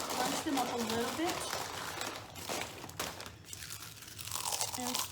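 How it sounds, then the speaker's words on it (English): Leftover chips are crushed inside their bag while cooking a Texas casserole, with continuous crinkly, crunchy rustling that runs loudly throughout, close by. "so I'm just going to crunch them up a little bit"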